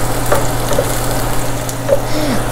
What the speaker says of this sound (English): Fry it until the garlic looks very light golden brown.